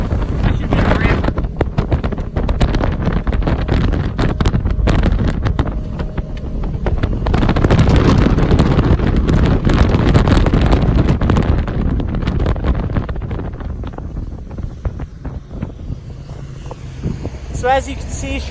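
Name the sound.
Cypress Cay TriToon pontoon boat motor running at speed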